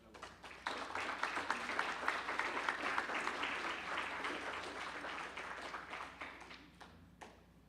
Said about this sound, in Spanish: Vamos a despedirlo con un fuerte aplauso.